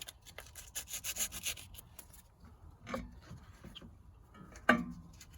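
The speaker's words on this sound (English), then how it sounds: "I'm also going to take a little bit of emery cloth and clean up these surfaces a little bit." Emery cloth rubbed by hand over corroded aluminum brake caliper surfaces on a Mazda 5: soft, quick back-and-forth scratchy rubbing strokes, close and quiet, ending with a brief knock.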